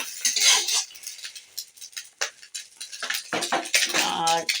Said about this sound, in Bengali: আমি ডিমটাকে মাঝখান দিয়ে ফালি করে নিলাম